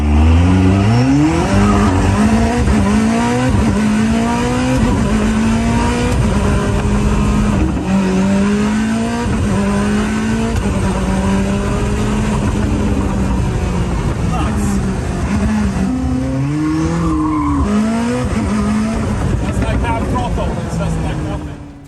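A Koenigsegg Jesko Attack hypercar screams around a race track, its engine note rising and falling through repeated gear shifts and corners, loud and continuous, with a voice talking over it.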